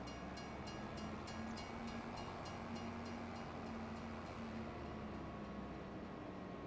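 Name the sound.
train in video game Farming Simulator 25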